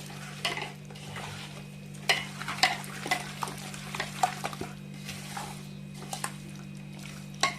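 Marinated chicken for Muslim-style dum biryani is mixed and pressed by hand, giving wet squishing and scraping sounds in irregular bursts over a constant low electrical hum, fairly close and quiet.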